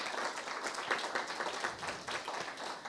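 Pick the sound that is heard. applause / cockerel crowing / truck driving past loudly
applause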